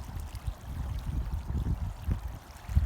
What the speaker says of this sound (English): this water is just going crazy